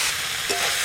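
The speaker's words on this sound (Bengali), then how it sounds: "এবার ভেজে রাখা চিংড়ি মাছগুলো দিয়ে দেবো" Fried prawns tipped into a simmering malai curry in a pan, with a steady broadband sizzle and a brief soft stir or plop midway.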